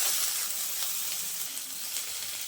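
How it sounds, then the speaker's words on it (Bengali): Potato and carrot strips fry with chopped tomato in a pan, giving a soft, even hiss that holds steady throughout without voices. "এখন আমি দিয়ে দিচ্ছি টমেটো কুচি। আবারও আমি ভেজে নেব।"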